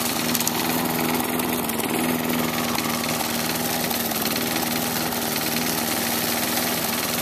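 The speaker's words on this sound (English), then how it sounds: "There's a lot of rattling going on in there. No loose blade or anything, it's just all engine." A lawn mower engine with a throttle modification screams at high RPM, a loud, steady rattling roar that drones without a break and stays close throughout, with no voices.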